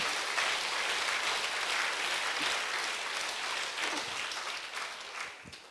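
Steady, dense applause from a church congregation during a Sunday worship service fills the whole stretch, holding loud and even before thinning slightly near the end.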